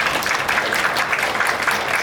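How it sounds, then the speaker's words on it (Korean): An audience at a policy forum on e-book accessibility claps in a dense, steady patter that fills the short stretch evenly. "일단 박수 부탁드립니다"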